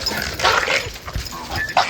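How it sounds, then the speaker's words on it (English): A pet dog caught up in a fight, with yelps, growls and whimpering noises coming in rough, uneven bursts against a noisy room. "Oh, my dog is fighting. Hey! Hold it. Governor!"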